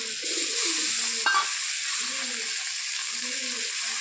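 Spice paste (bata masala) going into a frying pan of onion and leaves for a spicy puti fish chorchori, with steady close sizzling, soft stirring scrapes and a brief clatter, plus faint low voices or bird-like sounds underneath.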